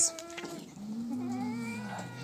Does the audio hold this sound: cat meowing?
yes